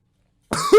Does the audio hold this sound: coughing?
yes